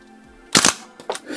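A Rare Arms AR15 CO2 blowback airsoft rifle fires its last few rounds, two loud close bursts of sharp cracking shots about half a second apart.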